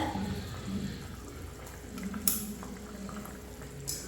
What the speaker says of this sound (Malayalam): നമ്മുടെ മാങ്ങ ഇട്ടതും നമ്മുടെ സവോളയിലാണ് എല്ലാം കൂടെ തിളച്ചിട്ടുണ്ട്